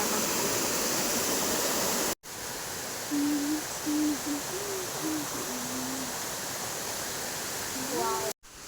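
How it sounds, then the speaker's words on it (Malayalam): A waterfall below a house roars as a constant broadband rush of falling water. Faint tonal hoots or voice-like sounds drift over it midway. "ഇതേ നമ്മുടെ വീടിന്റെ താഴെ കാണാൻ പറ്റിയ ഒരു വെള്ളച്ചാട്ടമാണ്"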